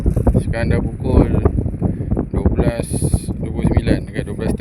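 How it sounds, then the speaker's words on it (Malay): Strong wind gusts across open sea during a fishing trip on a boat, a steady roaring rush of air and microphone buffeting heard close, with someone talking over it throughout. "Angin datang bukan main kuat lagi lah"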